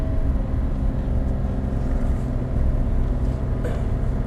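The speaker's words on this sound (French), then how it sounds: "Alors nous partons avec monsieur Viogne Fabien pour 5 tours en Porsche GT3 RS." A Porsche GT3 RS pulling away on a circuit gives a steady, loud, low engine rumble with road roar, heard from inside the car, without speech.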